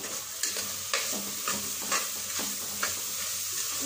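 A spoon stirs turmeric into tomato bath in a pan, with regular scraping strokes about every half second over a soft sizzle, close and alone.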